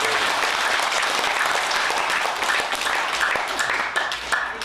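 A congregation at a Buddhist dharma talk in a Korean Buddhist hall bursts into full, dense applause, steady and loud from many hands for several seconds, easing slightly near the end.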